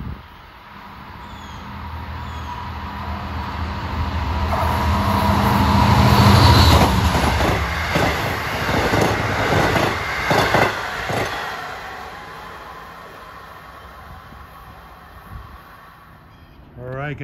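Long Island Rail Road commuter train approaching Merillon Avenue station on track 1, bound from Long Island City to Port Jefferson, its rumble swelling from a distance to a loud roar with rattling passes, then easing off.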